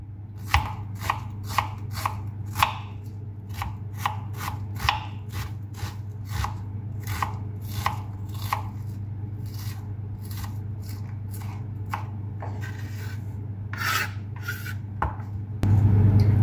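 An onion chopped with a knife on a board for homemade butter chicken, a long run of crisp, closely spaced cuts in quick bursts over a constant low hum.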